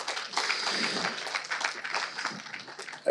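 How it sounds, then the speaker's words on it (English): Audience applause at a proptech conference forum, a steady mass of clapping across the room lasting about three seconds, moderately loud and fairly distant. "friend Antonia Mercarella, CEO of the REIQ, give her a big round of applause"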